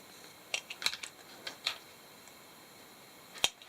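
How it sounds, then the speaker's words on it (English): Small cutters snip beaded chenille stems while a beaded snowflake is being made: a handful of sharp, faint, close clicks spaced irregularly over a quiet room, with no talking. "I'm going to go ahead and take my little cutters here, and I'm going to trim them up close to the end"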